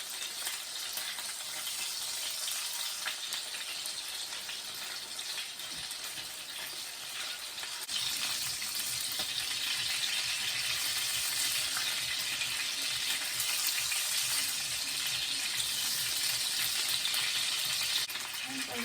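Duck pieces frying in hot oil for crispy-skinned roast duck give a steady, dense sizzle that runs throughout and grows slightly louder partway through.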